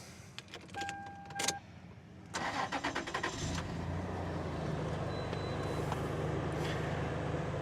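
A 2000 Toyota Land Cruiser Prado J90 V6 starting: a key jingles and the ignition chimes, then the starter cranks in a quick stutter before the engine catches and settles into a steady, close idle.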